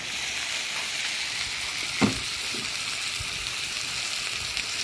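Potatoes added to frying tomato and onion in a pan give a steady moderate sizzle, with one sharp clatter near the middle and a few soft stirring knocks.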